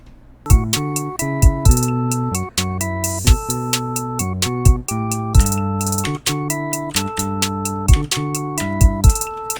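A synth bass line plays alone in Soundtrap music software: punchy notes in a steady groove with short runs between, clean and bright, lasting several bars.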